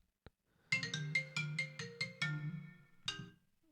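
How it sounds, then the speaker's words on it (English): A phone rings during a live podcast recording, a repeating electronic ringtone with a melodic series of bright pulses that play alone at moderate volume, pause briefly, then start again. "The phone's ringing, but we're doing the podcast."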